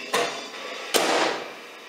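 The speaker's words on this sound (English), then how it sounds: "So all I'm getting from here is static." Steady hissing radio static comes from a radio shut inside a microwave oven, broken by two sharp, loud clicks or bursts about a second apart.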